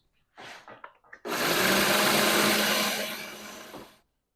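A food processor pulses peanuts, grinding them into a paste, with a few short bursts followed by one sustained loud whir of nearly three seconds that then cuts off.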